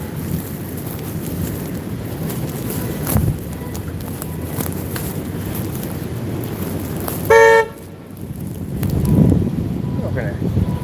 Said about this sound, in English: She's just honking her horn at people.